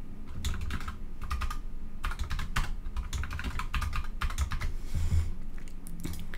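Rapid typing on a computer keyboard while entering an email address and password, with steady bursts of clicking keystrokes close up and no talking.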